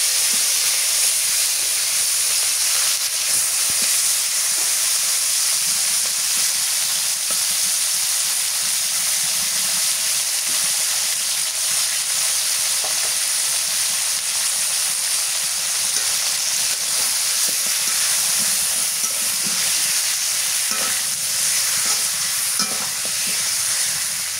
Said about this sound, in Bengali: এখন মুরগির মাংস দিয়ে দিই।